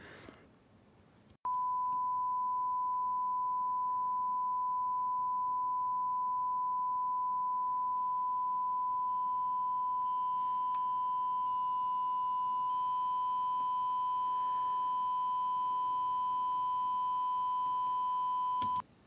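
A steady sine test tone is reduced from 24-bit depth by a bit-reduction plugin, so it grows audibly harsher as buzzy upper harmonics pile up over a hiss floor. It holds loud and continuous for most of the stretch, with no voices.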